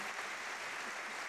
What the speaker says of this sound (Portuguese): Uma salva de palmas para o Sr. Alberto.